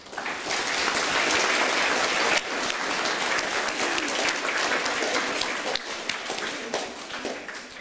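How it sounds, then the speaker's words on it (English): Students and staff at a Casebrook Intermediate school assembly clap loudly and continuously, a dense, rain-like burst of applause that holds strong before easing slightly toward the end. "Round of applause."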